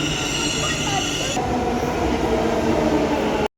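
Ambience at a railway station with a train, a steady rumble of rolling stock and wheel noise heard nearby, which thins partway through before cutting off abruptly. Faint voices mix in.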